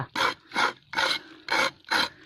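Bark being scraped off a durian tree in a Chanthaburi orchard: five rasping strokes in a steady back-and-forth rhythm, close and clear, with no talking.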